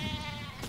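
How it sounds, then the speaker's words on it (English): A short, close sheep bleat from the sheep weapon in the Worms video game, wavering and fairly loud, filling the whole moment on its own. "I'm going to hit you with my sheep."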